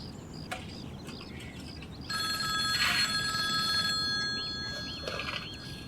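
A telephone rings in a domestic drama scene, a steady electronic bell tone that starts partway through and continues loudly over low background noise and faint bird chirps.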